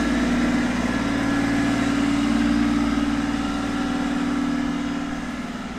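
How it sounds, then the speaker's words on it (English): A tractor moving caravans around a caravan dealer's yard rumbles along with a steady low diesel drone and droning hum, close and continuous, easing off slightly toward the end. "Just waiting for the tractor that's moving caravans around to go by."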